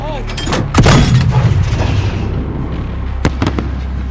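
A flare launcher fired from an embassy roof in Call of Duty: Modern Warfare gives a sharp, loud pop followed by a fizzing, crackling burst that fades, with another pair of quick reports near the end.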